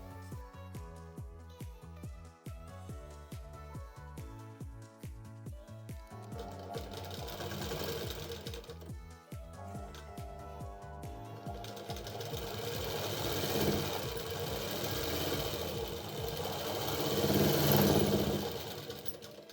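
A sewing machine stitches a coverlet repair in rapid rhythmic bursts, stopping and restarting, then running longer continuous stretches that grow louder toward the end.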